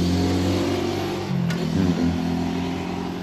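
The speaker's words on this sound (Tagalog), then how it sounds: "Ay, may motor dun baka nandiyan si Manong makahingi." A motorcycle passes by outdoors, its engine a steady mid-range drone that rises slightly as it approaches, heard at moderate distance amid background hum.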